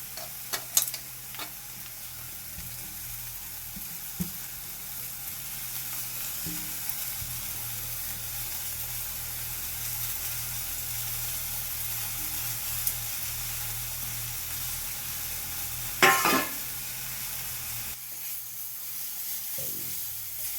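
Grated coconut cooks with lumpy monsoon jaggery in a pan, making a steady low sizzle while a spoon stirs and scrapes now and then, including one louder scrape near the end.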